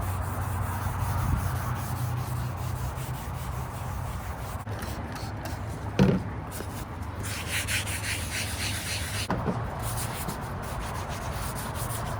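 Steady abrasive rubbing of sanding across a Yamaha F25 outboard motor cowling, continuous and close, with a brief knock partway through.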